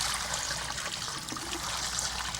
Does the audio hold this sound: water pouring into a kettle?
yes